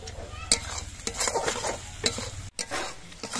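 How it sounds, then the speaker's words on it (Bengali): Spice paste for a snakehead fish curry sizzles in a pan as a spoon scrapes and stirs it in irregular strokes, close and moderately loud. "মশলাগুলো কষানোর সময় আমি পরিমাণ মতো নুন দিয়ে দিচ্ছি।"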